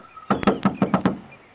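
A fist knocking on a door, six quick, firm raps in an urgent, slightly uneven rhythm, close and loud with no talking.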